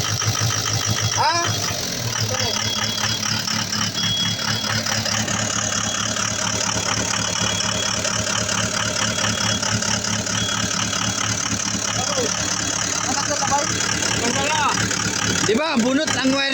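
An engine keeps running with its wire pulled out, a steady close mechanical idle with a rough, uneven rapping rhythm throughout, while someone talks over it.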